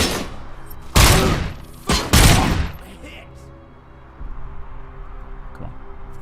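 Gunfire in the RoboCop video game crackles in loud, close bursts, two sharp volleys in quick succession followed by a quieter stretch of ambient game sound.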